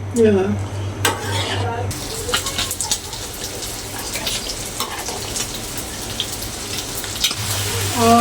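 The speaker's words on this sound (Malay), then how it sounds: "Okay, dia pun dah mendidih." Steady bubbling and sizzling from a pot of fish head curry boiling on the stove, with a low hum underneath and occasional clinks of a utensil against the pot.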